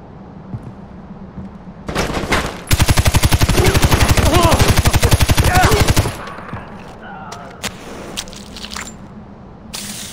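Automatic gunfire from the video game Far Cry 4 rattles in a loud, rapid, evenly spaced burst lasting several seconds, then gives way to a few scattered clicks and thumps.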